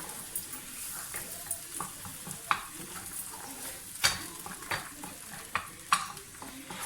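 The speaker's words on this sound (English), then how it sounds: "And then we're just going to stir it through." Rice with pear, parmigiano and onions being stirred in a pan, a soft continuous sizzle broken by light scraping clicks of the spoon at an irregular pace, fairly quiet.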